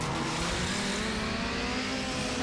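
An Acura Integra Type R racing in Need for Speed Underground, its engine a loud, steady roar that holds without a break and without talk.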